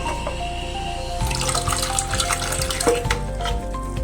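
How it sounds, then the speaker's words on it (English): Clean water runs from a tap into a container for painting, a steady splashing flow that rises in pitch as the vessel fills, with clinks near the start. "Now are you going to take another clean water? Yes. Let's fill the water."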